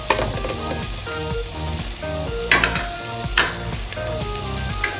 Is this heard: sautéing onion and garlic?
yes